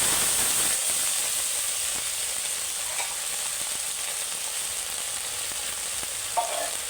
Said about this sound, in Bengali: জিরে গুঁড়ো ধনে গুঁড়ো দিয়ে জলটা গুলে নিয়ে দিয়ে দেবো